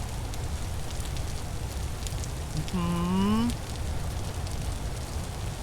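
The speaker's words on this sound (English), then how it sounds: "Wow, it's rainy." Rain falling in the video game Vintage Story, a faint, steady patter with a brief rising whistle-like tone in the middle, and a voice talking over it.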